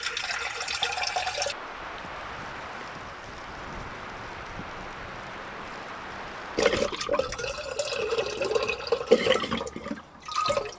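Water being poured into a pot for pasta, likely during winter camping in a snowstorm: a splashing, trickling fill at the start, a quiet pause, then a longer, louder burst of pouring and gurgling liquid close by, with no talking.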